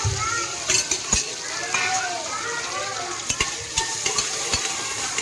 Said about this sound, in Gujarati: તેલ આવી જાય પછી મસ્ત વઘાર કરી નાખીએ